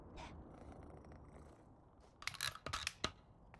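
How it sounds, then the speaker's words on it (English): A domestic cat purrs softly and steadily close by, joined in the final second by a few sharp clicking and rustling sounds, with no meow clearly evident. "I heard my cat meow"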